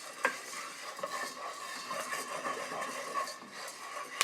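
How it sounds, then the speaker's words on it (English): Coffee beans popping and cracking as they roast while being stirred, a faint, busy crackle of small sharp snaps over a soft rustling, with occasional louder pops. "a lot of beans are beginning to pop"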